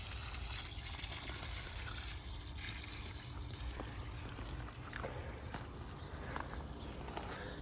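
Water running steadily from a hose or tap onto an ice cream bean tree in a zone 10a Mesa, Arizona garden, a continuous broadband hiss and trickle with no talk.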